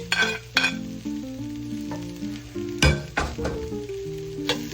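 A spoon stirs cooked breakfast sausage and meat in a cast iron skillet. Steady frying sizzle runs under several sharp metallic scrapes and clinks against the pan. The sounds are close and clear, and no one speaks.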